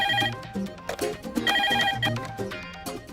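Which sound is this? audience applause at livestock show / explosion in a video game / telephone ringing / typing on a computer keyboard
telephone ringing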